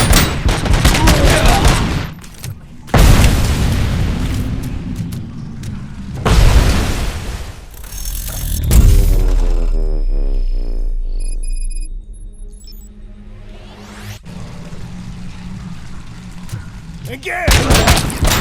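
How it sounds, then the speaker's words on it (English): Grenade blasts and gunfire in the video game RoboCop: Rogue City, with loud booming explosions and bursts of rapid shots followed by ringing debris and lingering rumble, repeating over the span with a voice calling out between. "Throwing grenade!"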